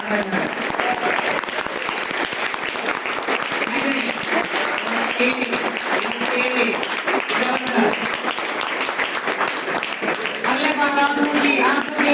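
An audience at an event honoring agriculture toppers breaks into strong, sustained applause for a topper's parents, with a voice speaking over the clapping and cheering crowd.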